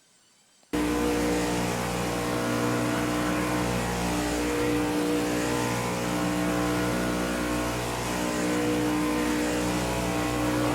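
Race car engine in a Daytona 500 racing video game revving hard and sustained at high pitch through a fast lap, loud and close, starting abruptly after a brief quiet moment.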